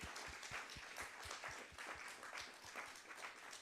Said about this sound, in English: I think they deserve a great applause